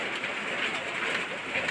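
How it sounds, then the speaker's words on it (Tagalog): Heavy rain pours down in a dense, steady hiss with no break and no voices. "Lakas-lakas rin yung ulan eh."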